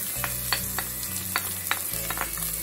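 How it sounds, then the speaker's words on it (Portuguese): Chopped onion frying with garlic in a pan, a continuous sizzle with light stirring scrapes and a faint steady hum underneath. "Agora nós vamos acrescentar, pessoal, um pouco de cebola."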